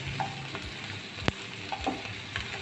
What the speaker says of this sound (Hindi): अब हम प्याज के साथ जो है भिंडी को फ्राई करेंगे मीडियम फ्लेम के ऊपर